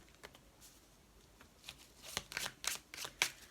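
Tarot cards being shuffled and drawn, a series of soft crisp riffles and slaps that grow louder and more frequent toward the end, close and alone with no talking.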